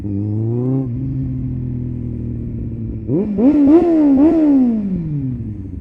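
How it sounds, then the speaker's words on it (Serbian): A motorcycle ridden through the Belgrade Waterfront district without riding gear, its engine droning steadily, then revving up in several rising, throaty pulls close by. "Motor se inače čuje neverovatno."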